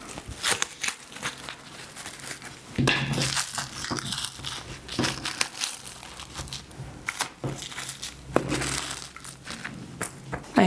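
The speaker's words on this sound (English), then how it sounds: "now I'm going to get that paper stretched out." Watercolor paper is stretched and crinkled by hand in a close, continuous run of crackling, crumpling rustles with sharper crunching bursts scattered throughout, and no voices.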